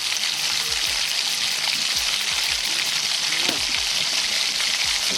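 Tomato sauce sizzles in a hot pan, a steady bright hiss and crackle running throughout with faint clinks and stirring scrapes underneath.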